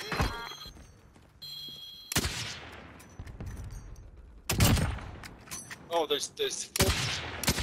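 Sniper rifle gunfire in Call of Duty: Warzone, three sharp, loud cracks spaced a couple of seconds apart with fainter game noise between them, and a voice speaks briefly near the end.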